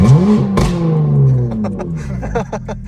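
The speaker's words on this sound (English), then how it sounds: "I definitely blew my exhaust off" A Plymouth Prowler engine roars loud and raspy with a blown exhaust, revving then dropping to a rough, sputtering rumble with crackling pops.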